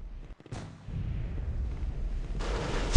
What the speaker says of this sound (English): Oh, Dingy is killed by Stan's grenade.